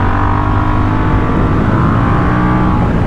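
A Moto Morini 1200 Corsaro ZT twin-cylinder motorcycle engine runs loud and close, a steady deep throbbing drone with a slight rise in pitch, no voices over it.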